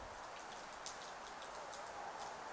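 Steady rain hisses throughout a live amateur football match, an even, continuous wash of falling water with a faint chirp or tick now and then and no voices.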